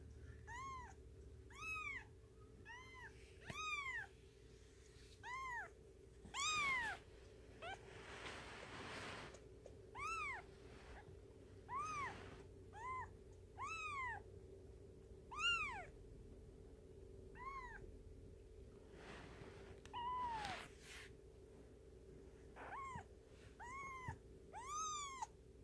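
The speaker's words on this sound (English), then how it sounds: "And Tabby out there in the hallway meowing." A house cat meows over and over in a hallway, a steady run of clear, rising-and-falling cries every second or two over a low constant hum.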